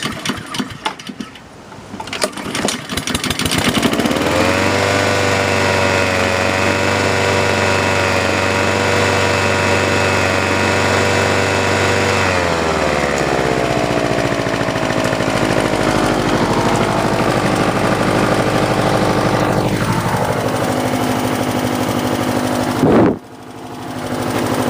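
A walk-behind lawn mower engine is pull-started without choke, catches after a couple of seconds and runs loud and steady nearby, changing pitch partway through before cutting off near the end.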